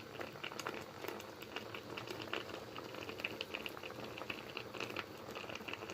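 A pot of pumpkin for a sweet dessert simmers steadily with dense, soft bubbling and faint popping, a continuous quiet texture throughout with no voices.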